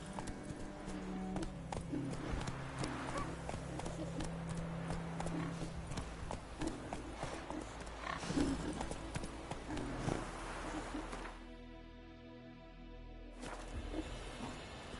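Hooves of Roach, a horse in a video game, clip-clop steadily at a brisk gallop, close and continuous, with a brief lull near the end before the hoofbeats pick up again.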